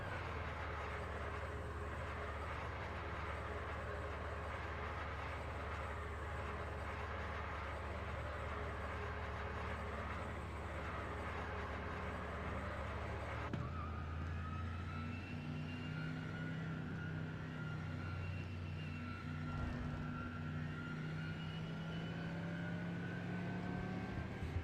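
A sim racing car's engine drones in a game while the driver saves fuel, running as a steady mechanical whine that changes abruptly halfway to a lower, gliding tone under the pace car.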